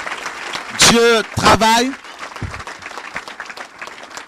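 Church congregation in Evry, France applauding: a dense burst of clapping runs underneath loud spoken preaching and then continues more softly.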